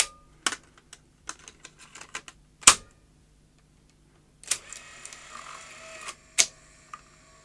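A Technicolor/Funai CVC video recorder mechanism runs alone and up close, giving a string of sharp mechanical clicks and clunks, one loud snap, then a few seconds of whirring motor with more clicks and a final clack.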